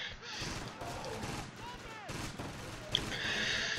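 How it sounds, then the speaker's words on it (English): Rattling gunfire from a Close Combat battle, a WWII Normandy fight around Caen between Axis and British troops, with shots and bursts throughout under someone talking. "Open fire, guys."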